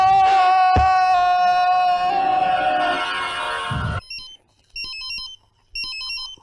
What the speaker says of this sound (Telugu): ఫోన్ మోగుతుంటే ఎచ్చావే.